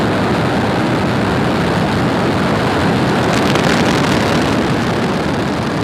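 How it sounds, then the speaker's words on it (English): The engines of a SpaceX Falcon rocket roar at liftoff for the GPS III mission, a loud, steady, broadband rumble with continuous crackling noise and no pauses. "Engines full power, and liftoff."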